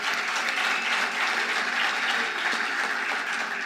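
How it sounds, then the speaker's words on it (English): An audience at a distinguished alumni lecture claps for a teaching assistant, a continuous dense round of applause at moderate distance, unbroken from start to finish. "Let's give him an applause."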